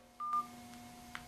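Telephone keypad dialing tones while placing a phone call, a few short electronic beeps over a faint steady hum, close and clear with no talking.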